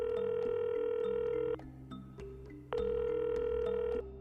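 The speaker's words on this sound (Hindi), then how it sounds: "नागों के बारे में काशी में पता करने के बाद माया ने रवि को फोन किया।" A telephone is dialed: two long steady tones, each lasting about a second and a half, separated by a short gap with a quieter mechanical click, fairly close and clean with no talking.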